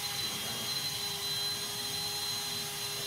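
A power carving tool for woodcarving runs continuously at high speed, giving a steady, close whine with stable tones and no variation or talk.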